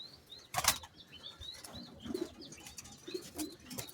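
Belgian racing pigeons beat their wings in a sharp, close flurry, followed by quieter flaps, soft coos and light chirps against a faint background.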